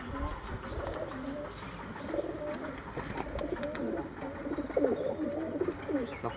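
Pigeons, among them one with lightly feathered feet, give soft repeated cooing calls at close range over a low background, with some faint scuffling and a brief murmur of voices.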